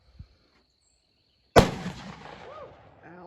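A Beretta 1301 shotgun fires a single 3-inch birdshot shell outdoors, one sharp close blast after a brief quiet, trailing into a decaying rumble, with a faint voice afterward.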